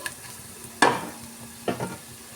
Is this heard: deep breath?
no